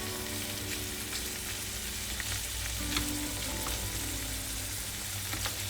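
Prawns frying in a hot pan, a loud, continuous crackling sizzle with spattering pops throughout and occasional stirring or utensil sounds.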